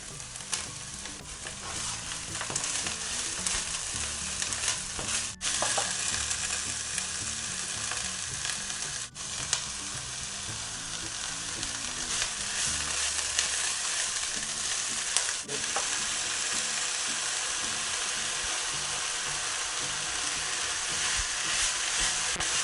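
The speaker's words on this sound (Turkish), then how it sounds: "ıspanakları da yavaş yavaş ilave edip kavuruyorum." Spinach sautés in a hot pan, giving a continuous close sizzle and crackle with occasional stirring scrapes that runs steadily throughout with no voices.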